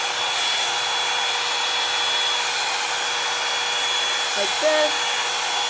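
A Revlon One-Step hair dryer styler runs steadily throughout with a constant close-up whine and airy roar, nearly masking a brief spoken remark near the end.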